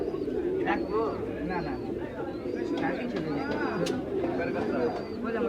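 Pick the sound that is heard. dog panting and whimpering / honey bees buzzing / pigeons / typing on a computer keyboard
pigeons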